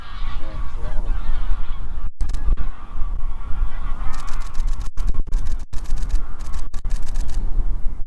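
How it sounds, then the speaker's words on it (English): A flock of geese passing over boggy ground near Leeds, loud overlapping honking calls from many birds, continuous throughout, with wind buffeting and a few sharp handling knocks. "that big shoal of geese coming"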